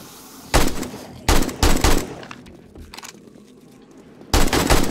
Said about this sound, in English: Let's get back to shooting down on them